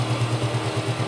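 A Yamaha Janus scooter engine runs close by with one wire disconnected, giving a steady, slightly uneven low putter with rhythmic pulses and no talk.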